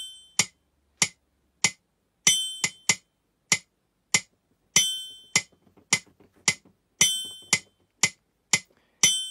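Yamaha PSR-EW410 keyboard metronome sped up to a faster tempo: a long run of crisp, bright clicks in a quick, regular pulse with periodic accented beats, close and clear, with faint soft handling noises partway through.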